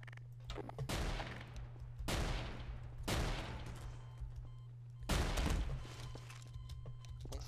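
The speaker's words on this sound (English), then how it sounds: "who's shooting me?" Gunfire in the video game Garry's Mod DarkRP, four loud, close bursts of shots spaced about a second or two apart over a steady low hum.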